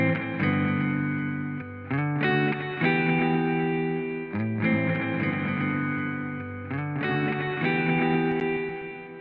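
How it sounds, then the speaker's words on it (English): Sustained synth chords sound with heavy delay and distortion effects from a delay plugin, each chord change trailing repeated reflections that blur into the next. "But this delay has it all."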